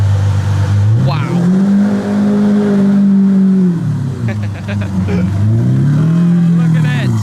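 A Mansory Carbonado Lamborghini Aventador Roadster drives out into daylight, its engine revving loudly and close in repeated rising and falling sweeps, while people talk over it.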